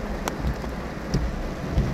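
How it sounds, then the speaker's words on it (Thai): Steady rain hisses outdoors with scattered drips and occasional soft low rumbles, no voices. "ฝนตกนะคะ"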